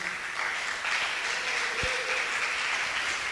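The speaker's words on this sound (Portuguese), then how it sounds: "Nós vamos dar uma salva de palmas para Jesus." Church congregation applauding Jesus during a sermon, a steady, fairly even wash of many hands clapping at moderate loudness with one brief low thump partway through.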